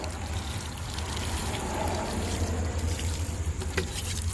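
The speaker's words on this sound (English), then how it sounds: "Make sure to water it one last time." Water poured onto the soil around a freshly transplanted rose in a garden, a soft, continuous low splash and trickle that stays fairly faint and steady throughout.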